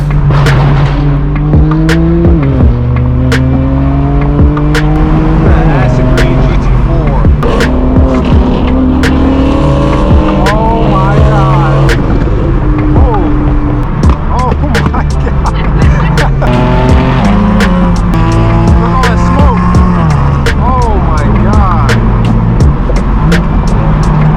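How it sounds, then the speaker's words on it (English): Loud exhaust from a straight-piped BMW M4 F82 while driving, with repeated revving rises and gear shifts through a steady, dense engine drone and no voices. "You guys join me here with my straight pipe BMW M4"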